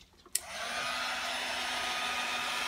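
A hair dryer switches on with a sharp click and blows a steady, loud broadband whoosh, drying chalk paste on a stencilled sign, continuing unbroken with no talk.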